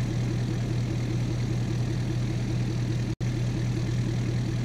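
Truck engine idling in Farming Simulator 22, a steady close low rumble with an even pulsing throb that cuts out briefly for an instant before carrying on.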